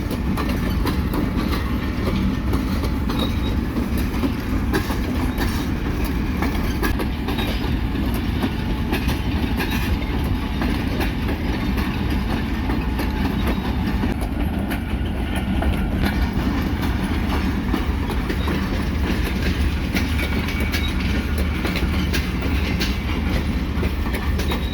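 The 28 Down Shalimar Express, a passenger train of old CNR-built coaches, rolls past loud and close with a continuous rumble and rhythmic clickety-clack of wheels on rail joints, no voices.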